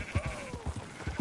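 Sheep bleating in Red Dead Redemption 2, a short wavering bleat heard close and clear over a low rumble of game ambience, with no talking.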